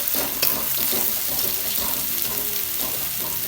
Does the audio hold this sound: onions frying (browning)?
yes